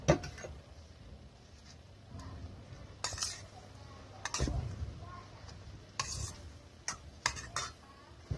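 A utensil clinks and scrapes in a bowl while fried egg salad is tossed with its dressing, giving soft, irregular close-up taps and stirring sounds.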